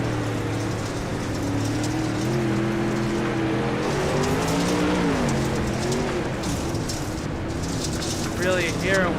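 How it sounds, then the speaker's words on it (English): Onboard sound from a dirt-track race car at Kokomo in the All-Star Racing Series, its engine rising and falling in pitch as the driver works the throttle around the lap, loud and continuous. "Really hear him working that throttle as we were on board for over a lap there"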